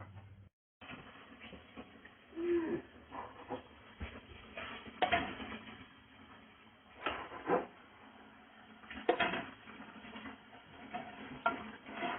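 Glass canning jars of spicy pork chunks being shifted into a pressure canner, with scattered clinks and knocks of glass and metal over a low background, fairly faint and close.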